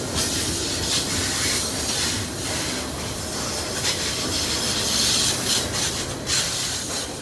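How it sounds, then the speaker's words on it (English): Rear end of a BNSF double-stack freight train rolling past below an overpass, a loud, steady rumble and rattle of railcars and wheels with faint squeals, close by and continuous. "I moved down below the overpass to get a slightly different view on the rear end of the train."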